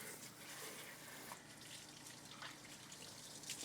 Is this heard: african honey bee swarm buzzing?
no